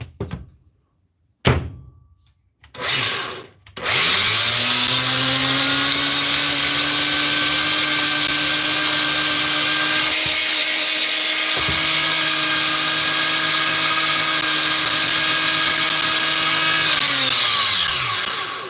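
A repaired angle grinder is switched on after a few knocks and short bursts, then runs loud and steady with a high whine, dips briefly, and spins down at the end, no talk.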